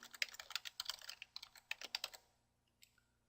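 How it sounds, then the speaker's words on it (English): Quick bursts of typing on a computer keyboard while setting up layers in Adobe After Effects, close and clear, with a dense run of keystrokes that slows into a few isolated taps before stopping. "I can type."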